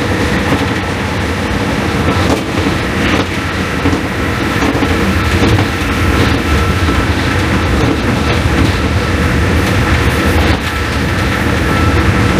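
Riding inside a former Deutsche Bahn passenger coach on the D19781 from Salzburg Hauptbahnhof to Wels: a loud, continuous rumble of wheels and carriage with rhythmic clickety-clack over rail joints, filling the whole stretch without voices.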